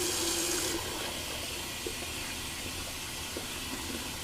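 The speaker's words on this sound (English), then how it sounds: "I'll just give that a quick rinse." Tap water running into a shaving soap bowl to rinse it, a steady close hiss of flowing water with a brief brighter splash at the start and a few small knocks.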